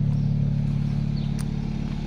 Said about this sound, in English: No exhaust mods at the moment, it is just the stock exhaust from the Msport package, and just with the rear flap open.